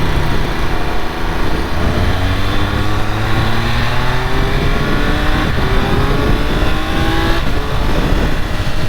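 A 2022 Triumph Speed Triple 1200RR motorcycle accelerating, the engine pitch climbing through repeated upshifts under loud, constant wind rush, close and sustained.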